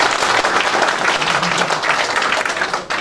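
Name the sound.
audience applause at campaign office opening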